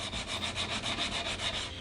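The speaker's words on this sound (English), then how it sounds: "we're just taking out the scratches, just honing it a bit, just sharpening it up a little bit" An electric power planer blade is honed on an extra fine 1000–1200 grit diamond stone, giving close, rhythmic back-and-forth scraping strokes, about eight in quick, even succession.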